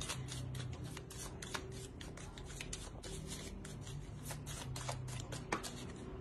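Tarot cards are shuffled and drawn from the deck up close, giving a steady papery rustle and slide with soft sharp flicks throughout, quiet and without talk.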